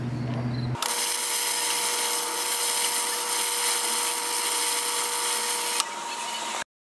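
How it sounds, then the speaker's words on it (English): Electric welding on heavy-duty steel loading ramps produces a steady, loud, sustained buzzing crackle for about five seconds after a brief quieter start, then drops off abruptly, with no talking. "Let's get back to the welding."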